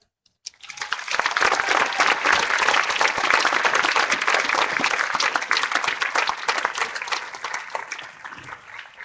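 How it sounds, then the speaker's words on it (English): A large school crowd at Weber bursts into applause for a retiring principal and staff, loud sustained clapping that starts abruptly and carries on for several seconds with a slight fade near the end. "Let's give a roar of applause to all these staff members and for all their years at Weber."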